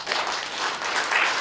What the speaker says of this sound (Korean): 이 역사 운동을 해오신 분들께 다시 한번 큰 박수를